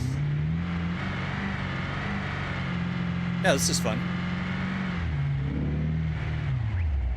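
Simulated car engine in BeamNG.drive racing game with RLS career mod, steady droning revs rising and falling throughout, with someone talking briefly over it.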